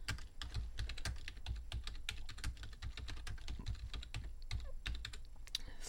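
Someone types quickly and continuously on a computer keyboard, a close, dense patter of key clicks with no talking.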